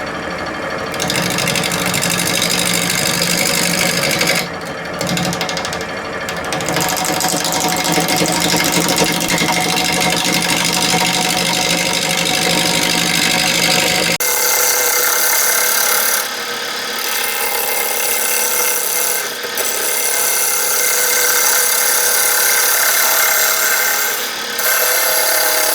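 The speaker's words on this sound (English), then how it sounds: "Using my modified roughing gouge, Harbor Freight stuff." A wood lathe turns a flat-sided vase while a modified Harbor Freight roughing gouge cuts into the spinning wood, giving a steady, loud whirring scrape that keeps going with brief pauses and a drop in low rumble midway.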